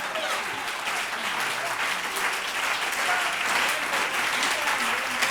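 A church congregation in Abidjan applauding steadily, dense continuous clapping from many hands that stays loud and even throughout, with faint voices mixed into the crowd.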